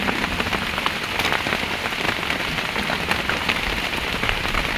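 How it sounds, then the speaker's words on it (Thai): Steady rain pours down, a dense hiss of drops hitting a surface, even and continuous throughout with no voices. "ฝนตกก่อน"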